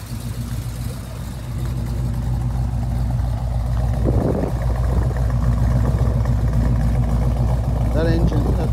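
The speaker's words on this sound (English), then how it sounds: "That engine, that 408 cubic inch engine, that Cleveland," A Ford 408 cubic inch Cleveland V8 engine runs steadily with a deep, loud rumble that builds slightly, heard close up with faint voices underneath.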